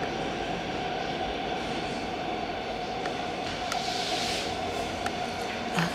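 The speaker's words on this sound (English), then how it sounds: "And you guys can see the train." A steady, heavy rumble of a train rolling past, continuous and fairly loud, with a faint rising hiss midway and no voices.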